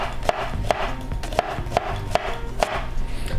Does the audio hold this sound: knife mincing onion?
yes